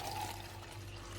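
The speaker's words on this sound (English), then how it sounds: "So let's add this water to the nasal pot." Lukewarm water flows into a nasal neti pot, a soft steady trickle and hiss filling the whole moment, faint and close with a low hum underneath.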